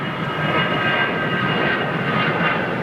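An Air India Boeing 787 Dreamliner at Heathrow gives a loud, steady jet engine roar that stays close and even throughout, with no voices.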